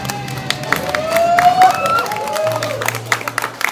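Audience applause and cheering from a crowd at a show, a steady wash of clapping with scattered shouts and whistles, mixed with voices and music throughout.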